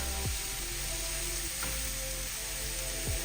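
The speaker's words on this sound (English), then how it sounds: "And just stir fried it up." Peppers, mushrooms, onions and snow peas sizzle steadily in a hot pan for a veggie stir fry, a faint, even hiss with a few scraping stir strokes, no voices.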